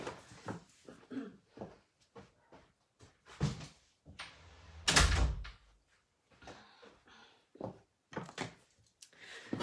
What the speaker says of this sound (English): Just bear with me a minute to close the door